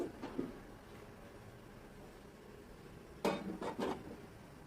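A lid goes onto a pot of boiling water with duck, heard as a brief metallic clatter early on and then a cluster of clinks and knocks later, close against a quiet background.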